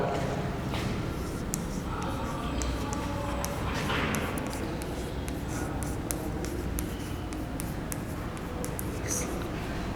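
A pen writes on paper at close range, a soft continuous scratching under a faint whispery background, with quick stroke ticks scattered through it.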